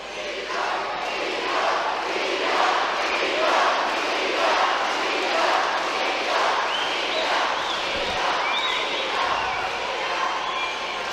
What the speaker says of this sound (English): Crowd getting behind their man